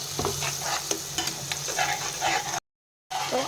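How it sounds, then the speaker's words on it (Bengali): Ginger and garlic paste fries and sizzles in hot oil while a spoon stirs it, giving a steady crackle with brief scrapes. A short stretch of silence cuts in near the end. "তো আদা রসুনের কাঁচা গন্ধ না যাওয়া পর্যন্ত এটাকে নাড়াবো"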